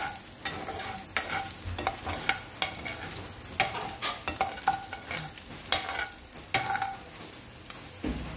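Pork with alamang shrimp paste is stirred in a pan, with steady scraping strokes in an irregular rhythm over a soft, continuous sizzle, close and fairly loud, with no talking.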